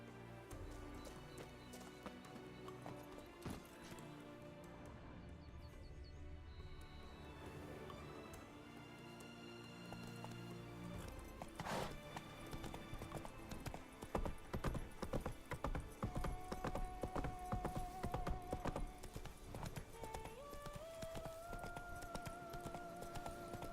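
Roach the horse gallops in The Witcher 3, steady clip-clop hoofbeats running under a dense bed of game music and ambience, with a whinny nearby.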